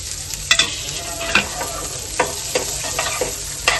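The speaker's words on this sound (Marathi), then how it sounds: "आता मी वाटाणा हा धुवून घेतला. आता फ्राय करायला टाकून देतो त्याच्यामध्ये." Washed green peas hit hot oil and fry with a steady, loud sizzle, punctuated by sharp scraping knocks of a spoon stirring them around the pan, with no talking.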